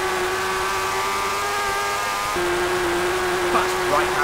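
A Suzuki superbike engine from the PS2 racing game TT Superbikes drones with a steady, buzzing tone that steps up in pitch partway through as it accelerates, with a voice talking over it.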